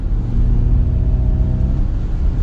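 Simulated V8 engine note piped through the cabin speakers of a Ford Mustang Mach-E electric car in Unbridled drive mode, a steady low rumble with a faint rising whir, continuous and fairly loud.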